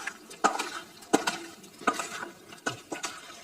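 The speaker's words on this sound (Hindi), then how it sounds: "अब डालेंगे हम क्रीम और ये अब मिक्स करते हैं" Cream being stirred into soya malai chaap with chaat masala and butter, a spoon scraping and clinking against the pan in a loose rhythm of soft repeated strokes, close and fairly quiet, with no talk.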